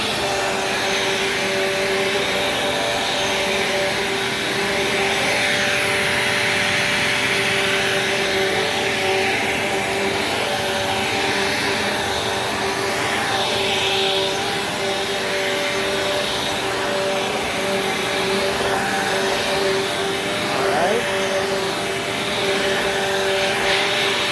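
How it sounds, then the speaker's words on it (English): A restored vacuum cleaner runs continuously and close by, a steady whining drone with a constant hum and no breaks. "How about that for a restored vacuum?"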